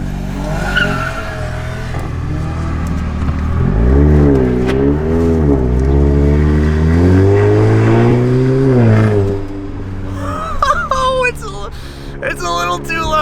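A tuned Volkswagen Golf R with an IE Stage 2 tune, exhaust valves open, heard from inside: a loud, droning exhaust rising and falling in pitch as it accelerates, then a quieter stretch with someone talking over it.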